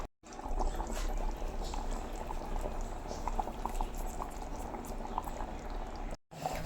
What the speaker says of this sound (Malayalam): മീനിട്ടിട്ട് നല്ലപോലെ തിളച്ചിട്ടുണ്ട്